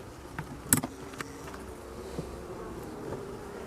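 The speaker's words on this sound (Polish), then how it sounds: "Ta pszczoła" Caucasian honey bees buzz steadily around a hive, with a few sharper knocks and rustles early on over a low background hum.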